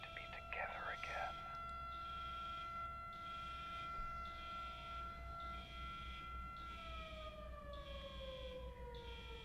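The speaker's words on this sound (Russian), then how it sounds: "Сирена." A wailing siren in a video game prison riot drones on steadily for several seconds, its tone sliding downward near the end, under quiet background noise and a brief crackle at the start.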